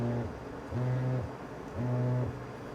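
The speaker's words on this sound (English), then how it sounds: "That's a vibration seat." Passenger vibration seat on a 1994 Harley Softail giving a low, steady buzzing hum in three pulsing bursts, each about half a second long, with short quiet gaps between them, close by and with no talking.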